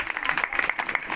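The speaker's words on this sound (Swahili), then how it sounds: "Tuwapige makofi mazuri" An audience at a charity event at a children's home claps for the children, a short burst of close, lively applause with distinct individual claps.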